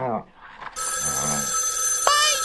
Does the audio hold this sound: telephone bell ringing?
yes